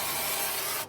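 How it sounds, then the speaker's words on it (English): Duck fat sprays steadily onto a barbecued chicken outdoors in the cold, a continuous close hiss that cuts off abruptly at the end. "I'm going to spray it with some duck fat"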